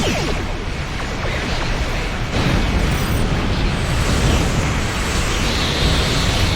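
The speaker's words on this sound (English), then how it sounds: "The Lucara is taking enemy fire." Starship under enemy weapons fire in the Star Trek Online video game: a dense, continuous roar of explosions and bursts, loud and sustained throughout with no pauses.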